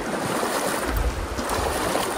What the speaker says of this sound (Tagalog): Medyo mas lumalakas na yung current dito.